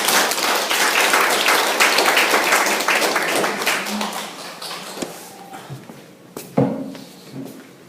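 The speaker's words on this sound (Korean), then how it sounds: "박수 부탁드리겠습니다" Applause from a lecture audience welcoming a local history speaker, a dense broadband patter of many hands that thins out and fades over several seconds, with a few scattered claps and knocks near the end.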